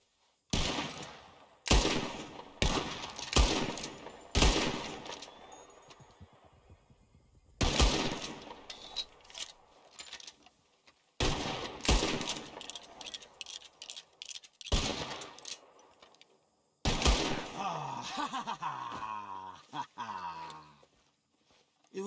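Gunfire in Red Dead Redemption 2 during a contest to shoot birds out of the sky: loud, close shots in rapid clusters separated by short pauses, over game ambience with some voices.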